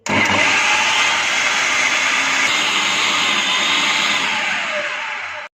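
An electric grinder whirs steadily as it grinds tomato and onion with water for a chicken seekh kabab handi masala, a loud, even motor roar running several seconds before cutting off.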